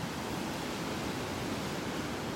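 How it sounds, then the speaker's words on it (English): Waves break on a beach in North Naples, Florida, giving a short, even roar of surf with no voices. "Look at those waves."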